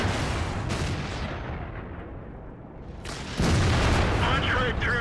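An IS-3 tank in World of Tanks fires its cannon and punches through enemy armor. A heavy, rumbling roar is followed by a louder, sudden boom partway through that holds steady to the end.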